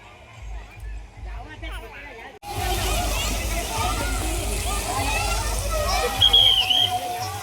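Water splashing and sloshing at a crowded water park, starting abruptly after a quieter opening and continuing as a loud, busy wash of splashes mixed with crowd babble and nearby voices.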